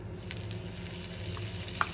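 Soft, steady sizzling of butter and oil in a hot Dutch oven, with a few faint clicks and pops and no voices.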